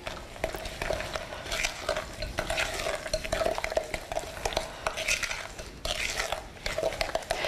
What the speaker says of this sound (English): you add 2 cups of brown sugar and stir until you have that all incorporated